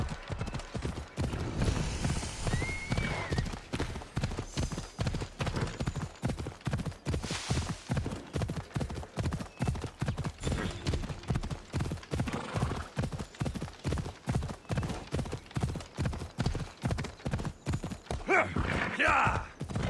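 Horse hooves in the video game Assassin's Creed Odyssey clatter in a steady, rapid clip-clop across the whole stretch, with a brief whinny and a shouted voice near the end.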